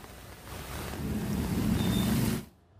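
Heavy rain pours during flooding, a broad rushing wash that swells over about two seconds and then cuts off abruptly, with no voices.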